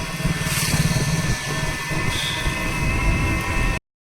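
A motorized engine van runs with a steady, rough engine drone and road rumble close by, and the sound cuts out abruptly at the end.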